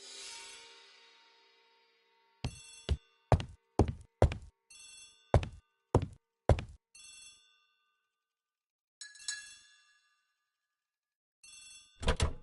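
A telephone in a hall rings in short, sharp metallic bell bursts, repeated in quick irregular clusters with silent gaps, loud and near.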